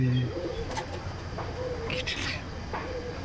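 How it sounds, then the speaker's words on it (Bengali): Pigeons coo nearby in soft repeated throbbing calls, with a few chirpy notes and some quiet talk in the background. "সব কবুতর, সব আরিসির।"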